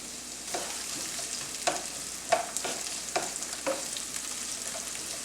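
Onions sauteing in a pan for a vegan quinoa and three-bean dish with asparagus, giving a steady soft sizzle with several light stirring scrapes spaced through it, close and moderately quiet.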